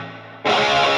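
Electric guitar played through a Line 6 Helix amp modeler switching abruptly from a cleaner tone to a thick, loud distorted chord that sustains to the end.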